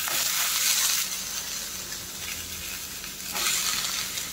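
Chopped brinjal and potato for a poriyal fry in hot oil with a steady close sizzle, swelling in bursts as the pieces are stirred and scraped around the pan.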